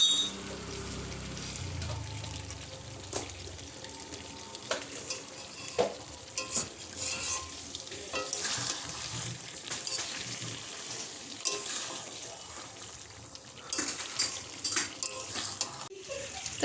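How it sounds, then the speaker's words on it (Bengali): Chicken curry being stirred in a pot at home, a spoon scraping and knocking against the metal at irregular intervals over a soft sizzle, close and fairly quiet. "আমি মাংসটা নাড়ছি"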